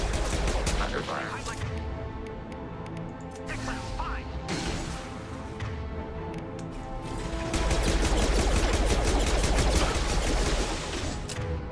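Gunfire in the shooter game Mass Effect 2: repeated bursts of rapid shots and impacts, loud and close, with dense firefights building toward the end and a voice talking at times.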